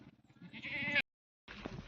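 A ewe that has just given birth and her newborn lamb bleat in a shepherd's flock. One close, wavering bleat runs for about a second and breaks off; after a short silence a second bleat begins.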